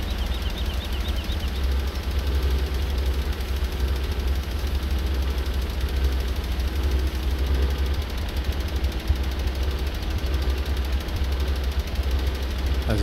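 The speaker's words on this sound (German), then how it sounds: "das blubbernde Geräusch von dem Motor, echt genial, wenn er so ein bisschen mal wieder Gas gibt" A tractor engine in Landwirtschafts-Simulator 17 rumbles steadily with a deep, burbling low throb, loud and continuous for the whole stretch, with no voices over it.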